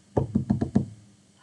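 Four quick, evenly spaced heavy knocks on a wooden door in a children's story about the three little pigs, close and loud with nothing else around them.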